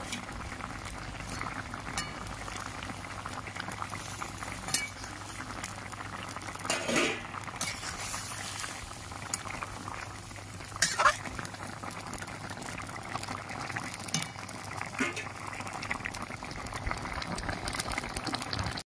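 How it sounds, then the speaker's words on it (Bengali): A pot of fish curry with ridge gourd and potatoes boils steadily, a dense bubbling and patter that carries alone and evenly throughout. "এবার আমি মাছগুলো দিয়ে দিচ্ছি ঝোলে, দিয়ে ভালো করে ফুটিয়ে নেব"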